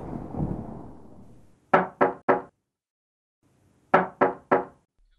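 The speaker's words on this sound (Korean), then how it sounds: "노크 소리," Two sets of three sharp knocks on a door, separated by a pause of silence, loud and close, following a fading rumble at the start.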